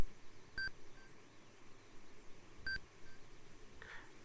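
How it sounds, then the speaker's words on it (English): Tracking beeps from the Amstrad CPC game A View to a Kill, two sharp electronic beeps about two seconds apart, each with a fainter echo, over a quiet hiss. "the beeps are getting closer together, so she must be fairly nearby"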